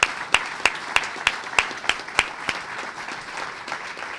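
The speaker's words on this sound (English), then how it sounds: "We got to give him a special round of applause." Outdoor applause at a Seattle waterfront civic event honoring a former mayor, with a few distinct, evenly spaced loud claps standing out over softer, scattered clapping that fades out.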